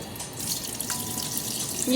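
Water pours off rice being drained for tomato biryani in a home kitchen, a steady splashing, trickling flow close by, with a brief sharp clink near the end.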